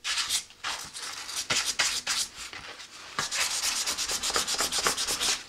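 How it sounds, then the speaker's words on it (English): A rocket nose cone is hand-sanded and scuffed for primer and paint, giving close, rhythmic rasping strokes in quick bursts with brief pauses between passes. "Kind of just sand some of those down, give this a scuff"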